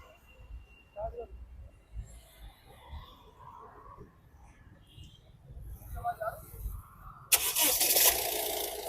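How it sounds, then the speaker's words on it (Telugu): A 2018 Honda WR-V VX diesel car is push-button started, a short cranking burst catching into a loud engine run near the end, after quieter rustling and voices talking nearby. "సింగిల్ సెల్ఫ్ లో బండి స్టార్ట్ అవుతుంది సార్"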